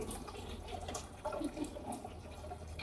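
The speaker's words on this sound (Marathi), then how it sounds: "आता माठ भरत बसले." Water pours steadily into a clay matka at home, a soft continuous splashing and gurgling at low level with a few brighter bumps midway, no voices.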